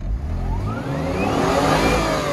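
A car engine revs hard and rises in pitch, its loud, sustained roar filling the moment like a burnout in progress.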